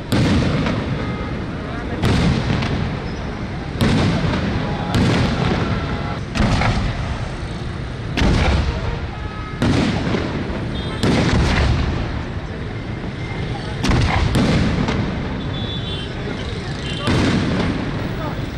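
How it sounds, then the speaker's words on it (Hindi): Fireworks at a celebratory display go off in repeated booming bursts about every second or two, loud and echoing, with crackle trailing each blast. "आतिशबाजी का मुजाहिरा भी किया गया।"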